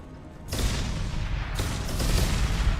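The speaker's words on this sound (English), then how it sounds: "The place is exploding." Explosions and gunfire in Mass Effect 2 burst in suddenly after a brief quiet moment, a loud roaring blast followed by continuous dense battle noise and another surge.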